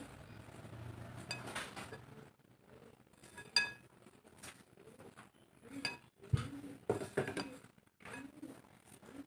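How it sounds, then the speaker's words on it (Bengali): A spoon clinks and scrapes against a bowl while paratha dough ingredients are mixed with orange ENO, in irregular light taps and knocks with short pauses between. "এখন সবগুলো উপকরণ মিক্সড করে নিয়ে নিচ্ছি"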